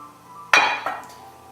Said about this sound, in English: we are going to put this into our 8-inch baking pan, which has been pre-buttered